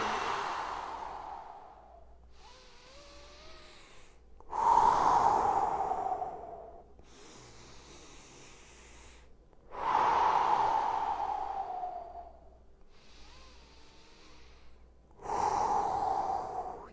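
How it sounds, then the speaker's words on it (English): Slow, deliberate breaths in and out during an arm-raising stretching exercise in a home workout, with a rhythmic cycle of loud exhales alternating with quieter inhales, recorded close up with no talking. "Inhale as the arm goes up. Exhale as it goes down."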